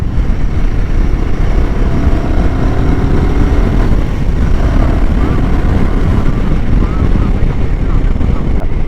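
A 400cc motorcycle overtakes on a highway, its engine drone loud and steady throughout, blended with heavy wind rush and road noise, with a voice speaking briefly over the ride.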